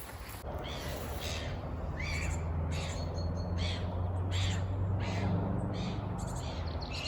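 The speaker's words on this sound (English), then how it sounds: "As you can hear, lots of birds around here" Birds call repeatedly over a steady low rumble of background noise, harsh caws and squawks coming in irregular bursts from a short distance, along an old canal route with gardens.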